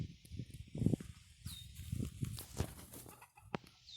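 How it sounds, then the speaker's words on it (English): A backyard hen pecks at a container of strawberry juice, giving irregular close taps mixed with soft clucks and a brief chirp. "She's pecking at the container to get some strawberry juice."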